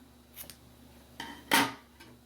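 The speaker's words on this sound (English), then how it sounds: "We're going to cut your yarn." Scissors snip through crochet yarn with a few short, light cuts. The last cut is the sharpest and loudest, and the room is otherwise quiet.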